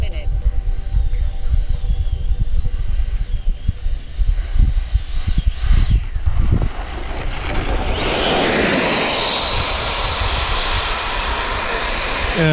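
FMS Rafale or Freewing Eurofighter RC model jet coming in to land with its air brake dropped, turbine whine and wind buffeting rising into a loud, steady roaring rush over the final seconds, close to the microphone.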